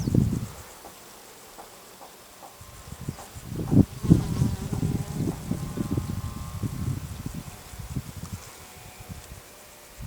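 Bees buzz nearby over flowering chamomile, the drone swelling and fading as they move close and away, with light outdoor rustle and no talking.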